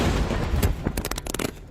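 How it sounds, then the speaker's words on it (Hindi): Bomb blast sound effect for a roadside attack on a minister's convoy: a rumbling boom followed by a rapid series of sharp, cracking bursts, loud and close. "तभी बीच रास्ते में होता है बम धमाका"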